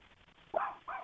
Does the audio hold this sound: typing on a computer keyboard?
no